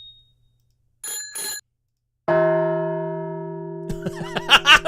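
Two short bicycle-bell trills, then a single struck bell rings out and decays while a jangly flurry of chimes follows.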